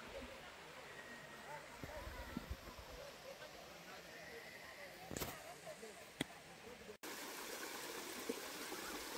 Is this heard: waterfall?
yes